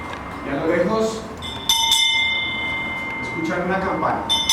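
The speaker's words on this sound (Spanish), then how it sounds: "escuchan una campana" A bell rings with a bright, sustained metallic tone in a busy market street scene in Jerusalem, heard alongside a voice speaking over the soundscape.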